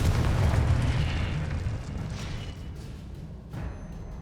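An explosion from the Confringo fire spell in the video game Hogwarts Legacy. A loud, broad blast rumbles and slowly fades over several seconds, with a smaller burst near the end.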